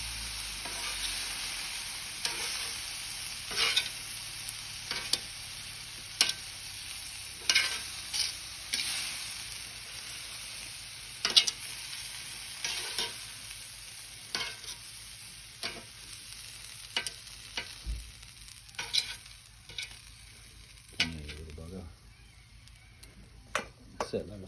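Beef stir fry cooking with vegetables on a Weber barbecue, a continuous close sizzle and frying hiss punctuated by regular scraping and clicking of a utensil against the hot plate, with occasional speech.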